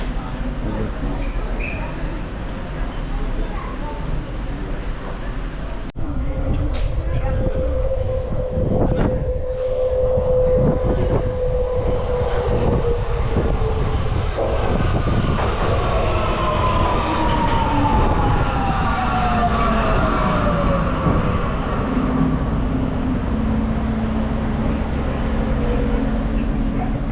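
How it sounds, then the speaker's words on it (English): Dutch metro train on Line M2 toward Oosterwijk, a loud close rumble that builds and rolls on with rising and falling wheel squeals and a long whine, while a voice speaks over it. "This is Metro Line M2 to Oosterwijk."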